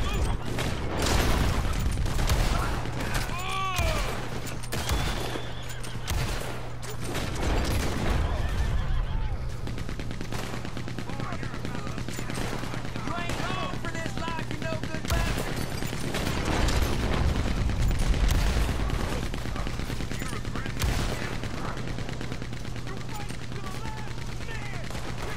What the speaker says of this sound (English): So they have a Gatling gun